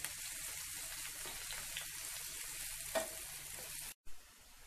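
Onions and green chillies fry steadily in a pan for Punjabi chole masala, a continuous close sizzle and crackle with a faint clink near the middle and a brief dropout near the end.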